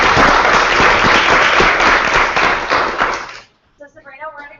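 Loud, dense applause fills a live broadcast room for a speaker who has just finished, with many hands clapping steadily for over three seconds before it cuts off and a voice begins talking.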